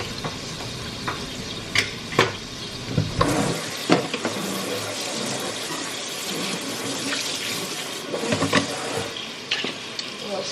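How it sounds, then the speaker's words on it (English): Tap water streams steadily onto beans in a strainer in a home kitchen, a constant close rushing hiss broken by scattered clanks and knocks as the beans are shaken. "So I always like to rinse my beans off"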